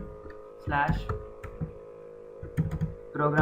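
Key clicks from a computer keyboard as a set path command is typed into the command prompt, scattered taps mixed with a person talking quietly.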